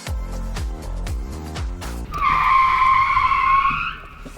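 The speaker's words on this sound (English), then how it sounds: "I don't have ABS. I had to swerve!" Car tyres squeal loudly in a long skid as a cheap hot hatchback without ABS swerves hard, following a rough engine and gear-change rumble, the screech holding for over a second before fading.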